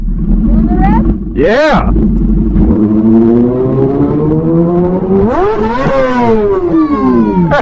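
A brand-new 2023 Kawasaki ZX-10R sits at a loud idle, then its engine is revved hard in sharp rising bursts that fall back to a rumbling idle, close and dominant, while someone shouts briefly over it.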